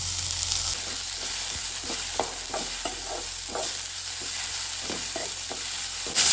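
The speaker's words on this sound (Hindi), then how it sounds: "अब हम इसमें डालेंगे टमाटर." Chopped tomatoes fry with browned onions in a pan, giving a steady sizzling hiss with a regular series of spoon scrapes and taps as they are stirred, close-up and without speech.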